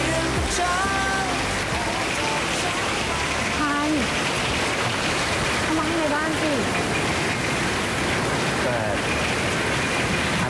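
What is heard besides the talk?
heavy rain falling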